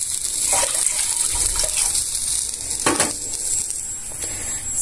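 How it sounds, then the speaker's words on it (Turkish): Vinegar poured into a pot while making oily pickles, a steady liquid splash running throughout with a brief thud of a container near the middle, close and moderately loud. "Hemen hemen su kadar da sirke koyuyorum"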